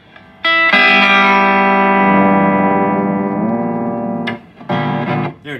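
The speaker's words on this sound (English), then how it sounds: "If I were to turn on the pitch glide on my 5th loop," An electric guitar chord plays through a pitch glide effect on the fifth loop of a pedal switcher, alongside a compressor. The loud, sustained chord bends downward in pitch, then two short, sharp strums follow.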